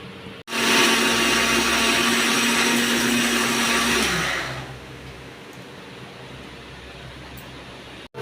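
A kitchen mixer grinder blends coconut and cumin into a fine paste, a loud steady whirring roar that runs for about four seconds, then winds down and stops, leaving a quiet room.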